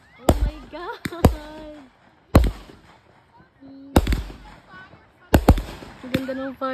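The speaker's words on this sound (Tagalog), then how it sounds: "Ang ganda ng fireworks." Backyard Fourth of July fireworks burst nearby in loud sharp bangs, several in quick pairs and clusters with pauses between, while people exclaim and talk excitedly.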